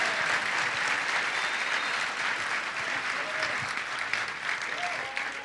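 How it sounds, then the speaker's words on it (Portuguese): Audience applause at a Portuguese-language church gathering, a dense steady wash of clapping that holds loud and even throughout, with no voices standing out. "Agora vocês vão ter que aplaudir muito mais"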